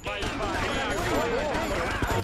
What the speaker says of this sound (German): Okay, wir ballern anscheinend.